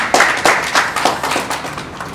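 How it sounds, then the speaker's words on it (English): Audience at a Rotary Club event clapping: a short, close burst of rhythmic handclaps from a small group, fading after about two seconds. "I think you deserve a round of applause for that."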